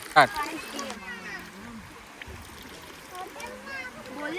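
Cold mountain stream water in Kerala gives one sharp, brief splash at the start, then a faint trickle runs beneath voices talking nearby.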